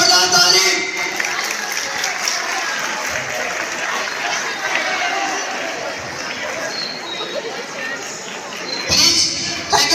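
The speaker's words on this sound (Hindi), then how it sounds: "जोरदार ताली।" Loud applause from a crowd at a PD Memorial School event, a dense wash of clapping that swells at first, holds steadily, then fades, with a voice speaking over it near the start and end.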